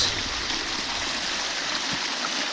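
Water discharges into a holding pond with a steady, close rushing and trickling flow that runs the whole time, even and unbroken, with no talk over it.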